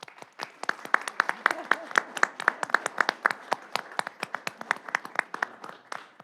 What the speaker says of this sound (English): I thought a nice round of applause for our clerk, Diane Conan, was in order